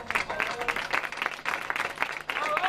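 An audience applauds at a rock band concert, a dense, steady clapping that runs unbroken and fairly loud from start to end.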